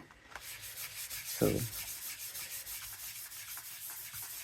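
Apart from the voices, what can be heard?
rubbing Sizzix oil pastel colors on paper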